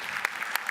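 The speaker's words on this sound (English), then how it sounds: "Once again, a big round of applause for Jim and his team." Conference audience applauding a presenter and his team, a short burst of dense clapping with a few sharper individual claps standing out.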